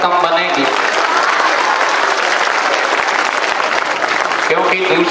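Loud continuous clapping from the crowd at an award ceremony as an honoree walks to the stage, with a voice briefly talking over the applause at the start and again near the end.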